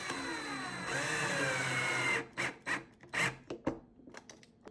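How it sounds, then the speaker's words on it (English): A power drill whines steadily as it bores into wood, then switches to short, stuttering bursts as the trigger is pulsed several times. "then I'm going to carefully drill into the wood."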